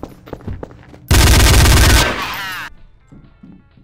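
Loud burst of automatic gunfire in Counter-Strike: Source, a dense rattling volley of about a second and a half that tails off, with players talking before and after.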